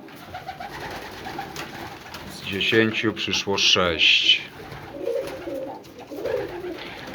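Racing pigeons coo in a loft, a soft rhythmic burst of calls rising in the middle and fading, with someone speaking over them.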